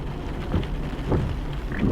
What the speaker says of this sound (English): rain had begun to fall.